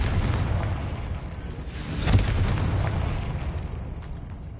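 Confringo spell blast from Hogwarts Legacy, a loud booming explosion that swells midway and rolls off into a long rumbling decay, with no talk over it.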